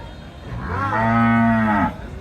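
A single long, deep cow moo, close and loud, rising and holding for about a second before trailing off.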